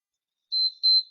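Two short, high-pitched electronic beeps from a workout interval timer sound in quick succession against silence, each sharp and steady in tone.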